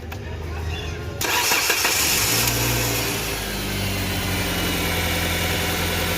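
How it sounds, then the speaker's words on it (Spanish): A car engine is started after a drive-belt repair: a short crank bursts into a loud start, then settles into a steady, close idle hum while voices speak nearby. "Prende el carro."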